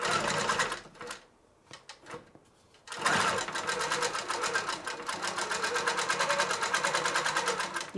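A Grace Q'Nique 21 Pro longarm sewing machine stitches binding onto a quilt still on the frame. It opens with a short rattling burst, goes quiet for a moment, then runs loud and steady in a fast, even mechanical patter.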